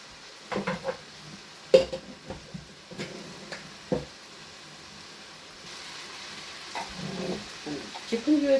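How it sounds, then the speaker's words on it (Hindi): Chicken pieces browning in a pan for chicken pasta, with soft sizzling under repeated scrapes and knocks of a utensil stirring against the pan, fairly close and uneven in rhythm. "चिकन जो है इसको भून लिया"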